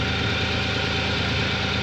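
An overhauled car engine that had been smoking black and burning oil idles close by, with a steady, even rumble and a faint rhythmic knock. No one speaks.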